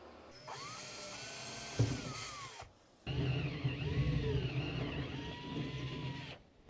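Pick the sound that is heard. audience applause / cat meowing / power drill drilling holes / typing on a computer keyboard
power drill drilling holes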